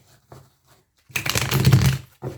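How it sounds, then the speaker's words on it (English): Riffling cards burst into a dense papery flutter lasting under a second, with a few soft taps and shuffles before and after. "shuffle this deck one more time"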